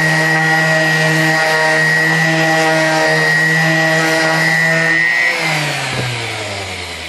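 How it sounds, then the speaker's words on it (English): A powered sander works wood with 80 grit sandpaper, a loud, steady motor whine with strong tonal hum that holds for about five seconds, then drops in pitch and tails off as the tool slows. "I'm using an 80 grit sandpaper to start with on here"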